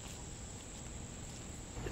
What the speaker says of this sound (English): The cicadas are out after 17 years.